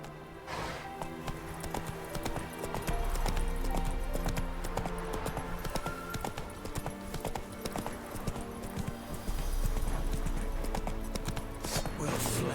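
Hooves of the horse Roach clip-clop steadily in The Witcher 3, a continuous trotting rhythm set against game music and ambience, with a voice speaking over it.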